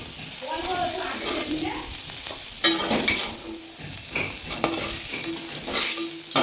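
Sliced bitter gourd (ucche) frying in a little oil gives a continuous close hiss and sizzle, with occasional spatula stirring knocks and a person talking over it.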